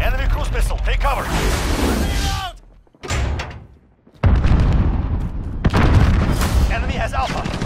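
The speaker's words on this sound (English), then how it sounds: "Enemy cruise missile. Take cover." An enemy cruise missile strike in Call of Duty Modern Warfare on the Hackney Yard map lands as a loud, heavy boom amid dense gunfire and battle noise, briefly dropping to near silence before the din resumes, with voice callouts over it.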